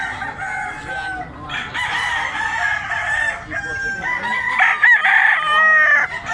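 A young rooster (stag) crows loudly and close by, with a couple of long, strained cock-a-doodle-doo calls and some clucking in between.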